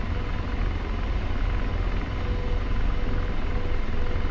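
Loud, steady rotor and turbine drone of an AH-64 Apache helicopter in the DCS flight game, a dense continuous roar with no breaks.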